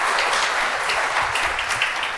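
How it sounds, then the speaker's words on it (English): An audience at a workplace-culture conference applauds its panelists, a dense, steady burst of clapping from many hands that fills the room for a couple of seconds. "let's give our panelists a round of applause"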